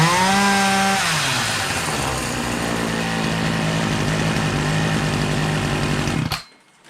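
Poulan 2250 Woodman 36cc two-stroke gas chainsaw with an 18-inch bar runs close by, revving high, then dropping to a loud steady idle for several seconds before cutting off abruptly.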